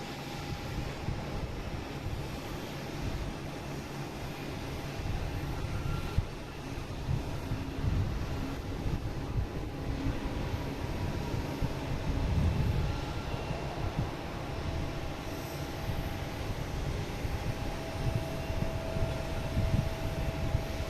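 A Condor airliner bound for Frankfurt takes off, heard as a sustained, broad jet roar with low rumble and wind buffeting, steady and moderately distant throughout with no talk.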